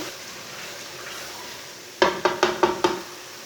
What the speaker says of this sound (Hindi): ऐसे ऐसे चम्मच चलाते हुए भूनना